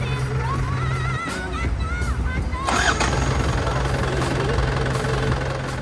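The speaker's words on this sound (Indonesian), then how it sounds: "Nah coba kita starter dengerin suara mesinnya teman-teman" A 1996 Isuzu Panther Grand Royale, showing about 123,000 km, has its engine started. A steady hum gives way to cranking and then a rougher, louder running rumble close by.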